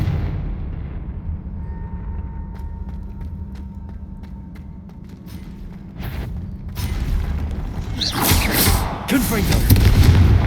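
Confringo fire spell blasts booming in the fantasy game Hogwarts Legacy, low rumbling impacts that swell into a loud crackling burst near the end over a steady background drone.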